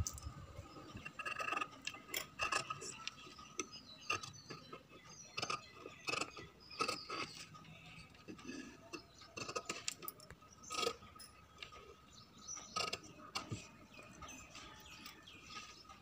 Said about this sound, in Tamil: இப்போ பேக் நெக் கட் பண்ணி எடுத்துக்கலாம்.